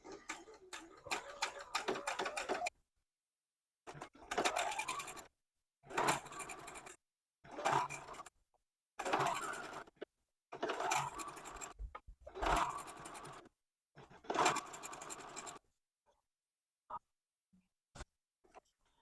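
Short bursts of a sewing machine stitching red quilt fabric onto orange for a piano key border, running in rapid whirring runs separated by brief pauses, close and fairly quiet.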